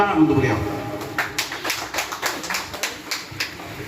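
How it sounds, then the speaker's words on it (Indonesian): Applause from an audience at a discussion gathering, starting with a spoken voice and then a run of scattered, fairly close hand claps that thins out toward the end. "Tepuk tangan untuk beliau"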